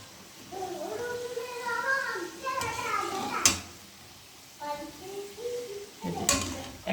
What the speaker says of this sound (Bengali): এবার এই যে আস্তে আস্তে জাল দিলে সিঙ্গারাটা খুব সুন্দর ভাজা হয়